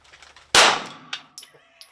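A 9mm pistol, an M9 or M17, fires a single loud, close shot from a Ransom Rest: a sharp crack with a ringing, metallic decay, followed by a few faint clinks.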